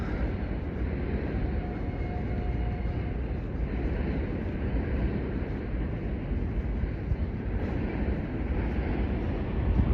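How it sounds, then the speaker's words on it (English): Steady, heavy rumbling and clattering of a long train rolling past nearby in Volkhov, Leningrad Region, Russia, sustained and unbroken throughout with no voices. "Wow, what a long train."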